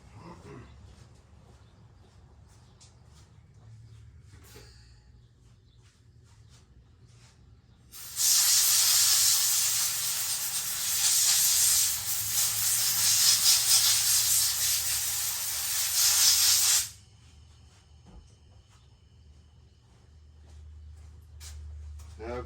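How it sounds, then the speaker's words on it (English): An air hose blows debris off a Stihl MS170 chainsaw in one sustained, loud, close hiss that lasts about nine seconds, with quieter handling sounds before and after. "Let me hit that with an air hose first and blow some of that junk out of the way."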